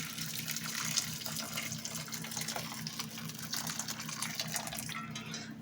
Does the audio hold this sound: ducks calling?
no